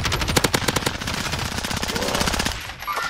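Automatic gunfire in Call of Duty Warzone, a rapid rhythmic burst of close shots lasting over two seconds before cutting off, followed by fainter sounds.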